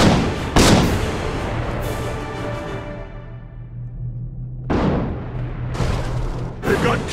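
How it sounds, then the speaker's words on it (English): Cannon fire during a siege battle in the video game Guild Wars 2, several loud, close booming blasts, one large shot early, then a lingering rumble and more heavy bursts in quick succession. "They've got cannons!"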